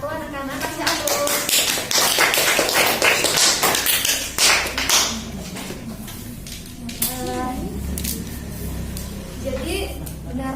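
Schoolchildren in a classroom clap together for a group, a dense burst of applause at the start that fades into scattered claps as a teacher speaks.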